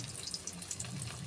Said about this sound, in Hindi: ये बिरियानी चाउल को पानी रे बतुरी दूची